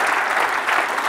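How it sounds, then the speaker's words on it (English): Dense, loud applause from an audience, continuous clapping that fills the whole short moment with no pause. "Give them a round of applause, come on."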